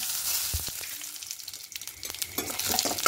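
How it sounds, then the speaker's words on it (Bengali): Asafoetida, whole cumin and two dried chilies sputter in hot white oil, a short burst of crackling sizzle with sharp pops and light stirring. "এবার ফোড়নে দেব হিং দেব আর গোটা জিরে, 2টো শুকনো লঙ্কা ফোড়ন দেব।"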